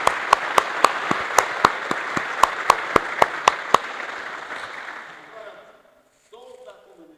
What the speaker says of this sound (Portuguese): salva de palmas ao coral Vozes do Mar.